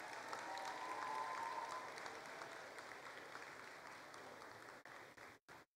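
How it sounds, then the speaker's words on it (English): Sustained applause from a commencement audience for the Class of 2018, steady and broad from a distance, slowly thinning toward the end before cutting out in a few brief gaps. "please give all of them a round of applause and thank them for what they've done for you"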